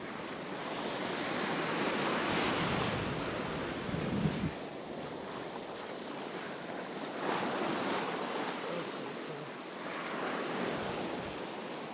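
Blustery wind at a shoreline fishing spot, a broad steady roar buffeting the microphone, swelling and easing in gusts over a wash like surf.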